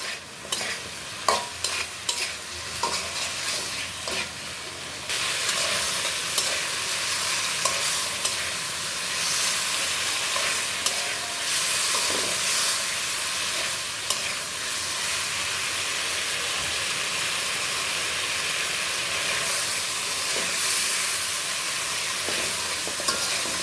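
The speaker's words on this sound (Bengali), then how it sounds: "বন্ধুরা দেখো তরকারিটা কষানো হয়ে গেছে" A drumstick and potato curry with tomato sizzles steadily in a hot pan, a dense close frying hiss with occasional stirring scrapes and clinks early on, then a continuous roar of bubbling oil.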